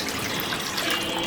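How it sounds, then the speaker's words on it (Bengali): Coconut water poured into a fruit pudding mix in a home kitchen, a short steady watery rush with no talk. "এখন হচ্ছে চুলা জ্বালানোর আগে আগে ডাবের জলটা দিতে হবে।"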